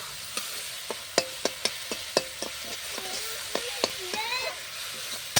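Chicken pieces frying in spice paste in a pan, with a steady sizzle under repeated sharp clicks of a spoon scraping and stirring against the pot, close by.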